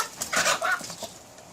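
Young chickens, cockerels and pullets raised from hatchlings on a farm, give a short burst of clucking and squawking calls, moderately close, with no talk over them.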